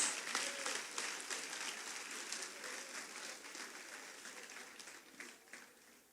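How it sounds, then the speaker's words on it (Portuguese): A church congregation claps in praise to the Lord during a service, a dense round of applause that starts loud and gradually thins and fades, with scattered sharper claps near the end. "Dá uma salva de palmas ao Senhor."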